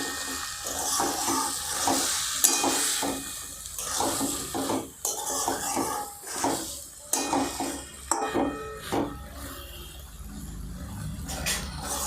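Pui greens coated in ground mustard-poppy paste are stirred and fried in a pan, with repeated rhythmic scraping strokes over a soft steady sizzle, close and moderately loud, with no talking.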